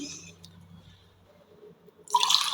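Water poured and flowing in a classroom demonstration of liquids, a soft trickle early on, then a louder, close gush of pouring water in the final half-second.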